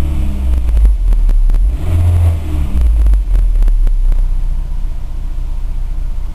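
A VW Golf Cabrio with a 2.0L engine, its ignition coil sprayed with WD-40, turns over and rumbles loudly up close with uneven revving surges.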